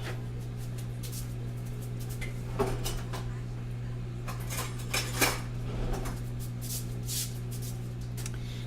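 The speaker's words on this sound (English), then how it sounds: "So I'm going to get a slotted spoon actually." Kitchen utensils clatter in a few short bursts while a slotted spoon is fetched during sweet potato cooking, the metallic clinks sitting over a steady low appliance hum.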